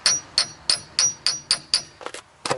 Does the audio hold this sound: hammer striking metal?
yes